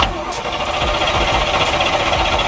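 A neglected $500 Corvette being started after fresh spark plugs were fitted: a close, loud engine cranking and catching into a rough running rumble, with a brief click at the start.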